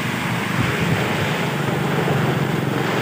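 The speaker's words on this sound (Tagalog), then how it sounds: "Kabaskog ro hangin." Strong wind roars steadily during a sudden roadside storm in Aklan, Philippines, buffeting the microphone with a constant low rumble and broad hiss, no voices present.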